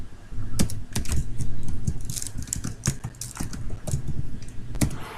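Code being typed on a computer keyboard for a visual programming assignment: a rapid, irregular run of loud, close key clicks with a few sharper strikes, steady for several seconds, with no talking.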